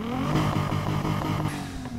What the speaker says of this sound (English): Let's listen to the sound of that engine.